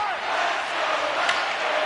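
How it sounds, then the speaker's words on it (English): Dense hockey arena crowd at a tied Montreal Canadiens versus Tampa Bay Lightning NHL game, a steady roar of cheering and shouting that stays loud and continuous throughout, with no break or lull. "You can feel the energy in this crowd."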